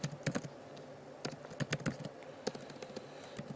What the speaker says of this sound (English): you can just type in, erase that and type in whatever you want